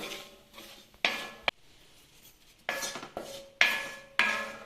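A spoon scrapes and clinks against a pan while chili powder masala is stirred for Kerala vadukapuli lemon pickle, with several sharp metallic strikes and rasping strokes close up, separated by quieter gaps.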